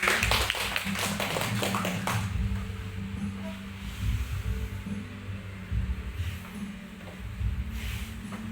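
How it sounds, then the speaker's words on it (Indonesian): A small group at a school teachers' sharing session claps briefly, a faint, close patter of applause in the first couple of seconds, then fading into quiet room hum. "Tepuk tangan untuk Ibu Dian."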